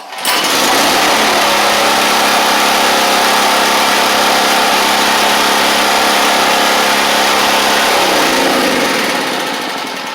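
Champion 5000W generator engine starts and runs at a loud, steady drone close by for several seconds before winding down, with no talking.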